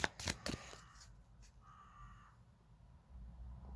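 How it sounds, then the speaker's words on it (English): A few faint, distant crows caw softly in a quiet outdoor setting, following a brief burst of close card-shuffling clicks at the start. "I don't know if you can hear them, the crows."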